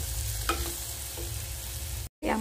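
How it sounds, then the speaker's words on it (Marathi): Turmeric powder and salt stirred through hot oil for mango rice, a steady low sizzle with light scraping strokes, close and moderate, breaking off briefly near the end before resuming. "हळदी पावडर, चवीनुसार मीठ छान तेलामध्ये परतून घ्यायचं"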